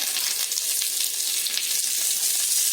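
Mustard seeds, cumin and curry leaves fry in hot oil as a tempering for coconut chutney, making a close, loud, unbroken crackling hiss that fills the whole stretch with no voices over it.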